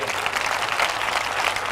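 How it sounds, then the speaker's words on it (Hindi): Congregation at a Hindi-language church service applauds loudly for the Lord, a dense, steady wash of many hands clapping throughout with no voices standing out. "जोर से ताली बजा सकते हो प्रभु के लिए।"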